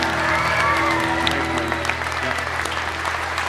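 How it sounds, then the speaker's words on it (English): A stage audience gives steady, dense applause with many hands clapping together. It holds at an even level throughout, with no one speaking over it. "Big hand for Paul."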